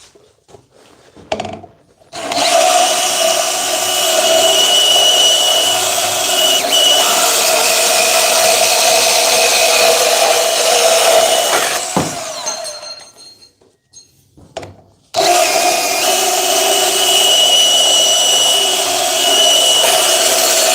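Cordless cut-off tools, a DeWalt DCS438 and a Milwaukee M12 2522, slicing through metal: two long, loud, close bursts of grinding, abrasive whine separated by quiet gaps, with brief clinks between the cuts.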